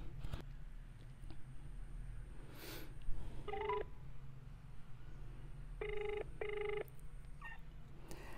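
A telephone call being placed, with short, faint ringing tones in a few separate bursts over a steady low hum in a quiet room.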